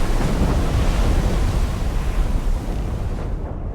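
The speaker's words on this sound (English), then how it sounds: "Cannon fire. Deep within the fog." Distant cannon fire rumbles through fog in the video game Assassin's Creed Rogue, a deep, booming roll like far thunder that swells and slowly fades amid ambient sea noise, no voices.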